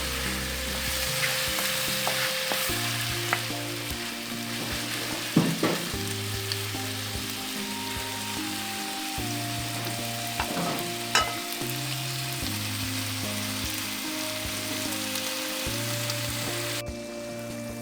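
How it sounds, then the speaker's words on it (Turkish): Meat and tomato sizzle and fry in a saç pan over a wood fire in a village setting, a steady crackling hiss broken by repeated scraping stirs and occasional sharp clinks, close and continuous without speech. "şöyle karıştıracağız. İçinde eriyene kadar tamamen pişirmeye devam edeceğiz."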